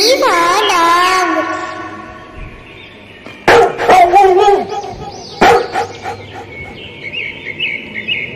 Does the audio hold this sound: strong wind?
no